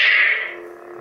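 A lightsaber with a Korbanth Graflex 2.0 hilt ignites using an A New Hope sound font: a bright, loud whooshing burst that quickly settles into a steady, lower humming tone.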